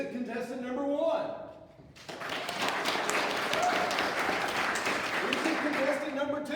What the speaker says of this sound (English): Ladies and gentlemen, vote with your applause for the real Mike Brady.